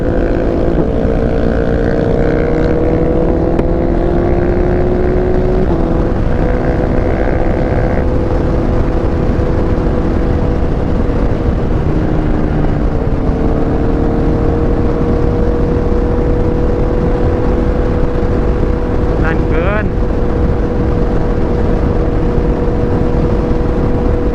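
A Yamaha MT-09 motorcycle with a loud exhaust roars continuously, its engine note rising and falling through several rev changes while riding, close and dominant throughout without talk.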